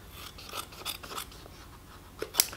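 Scissors cutting material for a magnetic snap, several crisp snipping crunches spaced irregularly, close and quiet, ending in a sharper louder snip.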